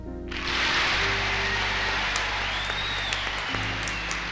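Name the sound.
standing ovation from US Congress after MacArthur's farewell speech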